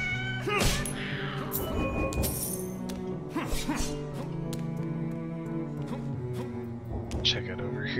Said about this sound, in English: I almost didn't see that cat, it was blending in the background.